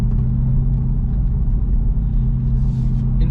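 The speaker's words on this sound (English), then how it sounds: "whenever you let off the accelerator, it just gives you this nice little rumble and burble sound to it" A C8 Corvette fitted with a Corsa Xtreme exhaust rumbles and burbles steadily off the throttle, a loud, continuous low-pitched drone with no talk over it.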